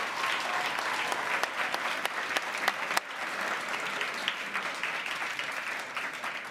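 A youth summit audience in Calgary gives its guests a round of applause, steady crowded clapping heard at a moderate distance throughout, with a brief dip midway.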